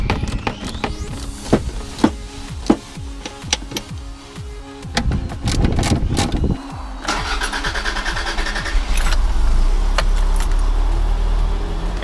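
Keys jingle and click, then a Toyota MR2 engine cranks and starts, settling into a loud idle with a quick rev, close by.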